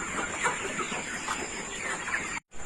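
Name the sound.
Colour Bird chickens clucking in poultry shed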